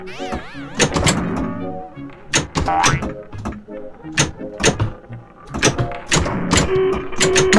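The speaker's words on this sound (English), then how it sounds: "Bowling pin sounds." Electronic arcade sounds from a virtual pinball game, with repeated hollow clattering knocks of bowling pins toppling, mixed with bouncy tones in an uneven rhythm.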